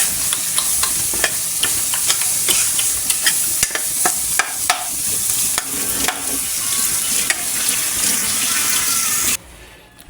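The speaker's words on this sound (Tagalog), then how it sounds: "magsangag tayo ng kanin" Sinangag, Filipino garlic fried rice, cooks in a pan with a continuous loud sizzle, punctuated by frequent scraping and stirring clicks, before the frying suddenly drops away near the end.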